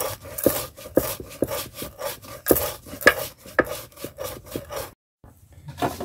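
Spice paste ground by hand on a grinding stone, a close, rhythmic run of rasping scrapes and knocks that pauses briefly near the end before resuming.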